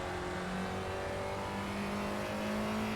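Race car engine droning steadily at high revs through a lap of iRacing at Iowa, a continuous loud whine with a sustained tone that never lets up.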